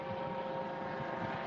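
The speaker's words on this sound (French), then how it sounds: "Chez nous, il y a un petit hélicoptère qui passe à ce moment-là." A small helicopter passes overhead at a French wildlife reserve, its steady droning rotor hum faint and continuous through the brief moment, with no voices.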